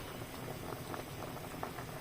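Soup bubbling at a rolling boil in a pot, a close, continuous burble of popping bubbles with no voices.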